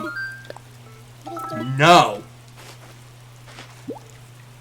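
Soft, steady rainfall from the Animal Crossing: New Horizons video game patters faintly and continuously under a low constant hum, with a man's short spoken word rising briefly over it.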